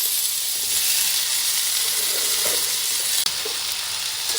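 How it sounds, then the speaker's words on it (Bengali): Potatoes stirred one by one in hot oil in a pan for a kundri and potato curry: a steady, loud sizzle throughout with faint spatula scrapes and a single sharp tap near the end. "তেল গরম হয়ে গেছে, এরপর একে একে আলু নেড়ে নেব, তারপর কুঁদরি দিয়ে দেব।"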